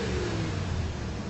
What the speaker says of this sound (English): They realized the escaping liquid could explain the mystery of the revving engine.